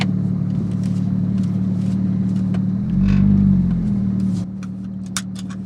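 Straight-piped Porsche GT3 with exhaust valves closed, a deep loud idle-to-cruise drone that swells briefly in a rev before settling lower, close and continuous with occasional clicks and interior noises.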